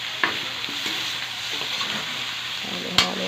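Sautéed vegetables seasoned with fish sauce are stirred in a pan, a soft steady sizzle with a few sharp clinks of the utensil, close and fairly quiet, no talk.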